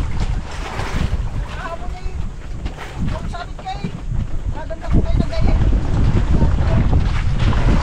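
A fishing boat out on the sea runs under gusty wind buffeting the microphone, with waves washing nearby and several people talking loudly throughout.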